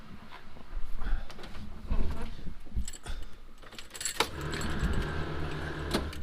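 A turbocharged LSX V8 in a fleet vehicle cranks and catches, then settles into a steady, dense idle that rumbles close by for the final couple of seconds, after some clinking and jangling of keys.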